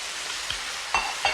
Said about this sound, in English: these chopped tomatoes, all their juices, stir it in like that